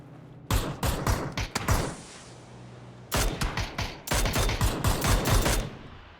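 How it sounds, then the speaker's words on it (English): Repeated gunfire bursts from a PUBG esports match, rapid automatic volleys in two clusters separated by a short lull, loud and close with no talk. "Nice shots from Rafa."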